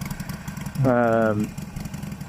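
Harley-Davidson Sportster 48 with a 1200 engine, a roughly 600-pound cruiser with a fat front tire, gives a brief, loud, steady rev of about half a second, rising clearly above background road noise.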